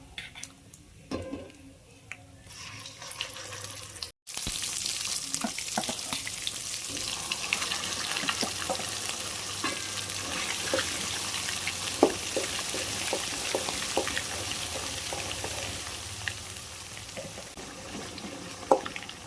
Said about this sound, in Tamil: பெருங்காயம் நல்லா எண்ணெயில் பொரிஞ்சிருச்சு இப்போ வந்து நம்ம அரைச்சி வச்ச தொக்கு சேர்த்துக்கலாம்